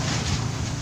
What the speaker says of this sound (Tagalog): pero mayroon pang hangin